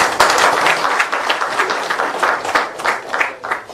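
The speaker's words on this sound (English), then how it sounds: "I think our claps could be louder." A dense, steady round of audience applause fills a ceremony for the launch of a Model Career Center in Goa, with many hands clapping together at a fairly loud level throughout.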